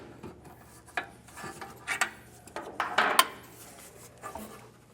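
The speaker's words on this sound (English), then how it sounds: "you can start prying it out" A tool pries a rubber exhaust isolator loose behind the muffler of a 2022 Hyundai Santa Fe, making faint scraping, creaking rubs and a few sharper knocks in irregular bursts.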